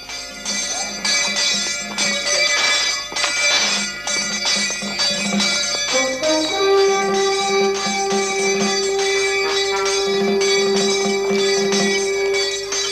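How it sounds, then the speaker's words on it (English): Castle bells ringing out at an English castle re-enactment: loud, repeated metallic peals with long ringing overtones that overlap and sustain, a sharper change in pitch midway, filling the space with no voices. "The bells announce to all the castle inhabitants that it's time to whip the wench seen begging in the streets."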